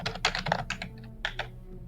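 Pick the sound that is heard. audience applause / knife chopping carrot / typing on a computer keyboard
typing on a computer keyboard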